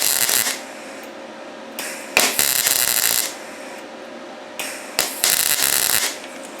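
A YesWelder DP200 welder welds panels in several short bursts, each a loud, harsh crackling buzz lasting about a second, separated by near-silent pauses.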